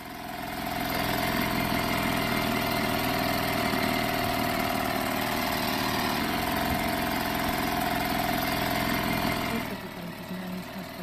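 A loud boat engine idles in a steady, unbroken drone with a mid-pitched hum and vibration, then drops away sharply near the end, leaving quieter background.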